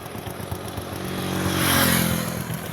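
A motorcycle engine idles and rumbles close by, swelling louder as it revs midway, with clattering mechanical noise and no talk.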